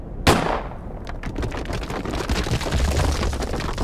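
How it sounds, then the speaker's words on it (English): A single loud gunshot fired in a video game, a sharp close blast that rolls off into a long echoing rumble of landslide debris and ambience. "Let's make this shot count."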